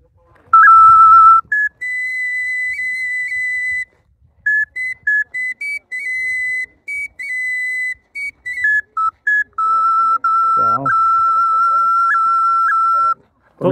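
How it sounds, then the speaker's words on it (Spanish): Replica of a pre-Hispanic Teotihuacan wind instrument played close up, giving clear whistle-like tones that shift in pitch across a loose, improvised melody of held and short notes, with a brief low thump partway through. "Este servía para hacer la música de antes los teotihuacanos."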